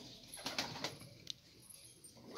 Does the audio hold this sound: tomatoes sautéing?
no